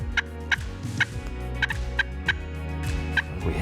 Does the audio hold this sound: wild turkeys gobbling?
yes